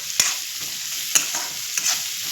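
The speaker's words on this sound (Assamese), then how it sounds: "ইয়াত চাহৰ লগত খাবৰ কাৰণে বুট ফ্ৰাই কৰি আছোঁ" Chickpeas, soaked overnight, fry in a pan with a steady hiss. Three crisp scraping stirs punctuate the sound, with no voices.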